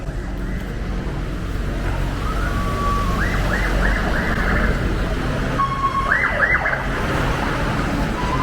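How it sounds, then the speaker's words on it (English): A police or ambulance siren in Brazil rises and falls in quick yelps, repeating several times at moderate distance over a steady hum of traffic and street noise. "Little police sirens or an ambulance, who knows"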